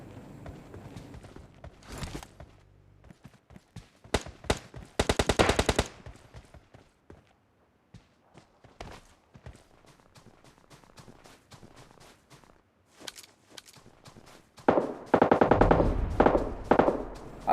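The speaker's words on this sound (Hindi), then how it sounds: "मेरे को अपार्टमेंट की तरफ से कुछ गन साउंड आ रहे थे" Gunfire in the mobile battle royale game PUBG Mobile Lite: scattered single shots and short automatic bursts, some sharp and near, others fainter, ending in a loud sustained volley, with light footstep-like ticks between.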